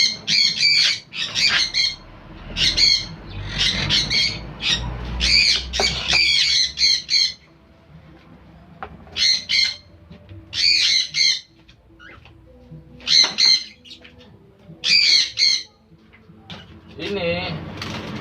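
Quaker parrots kept with cockatiels in a colony breeding setup squawk loudly in repeated harsh bursts, close by, with some background noise between calls.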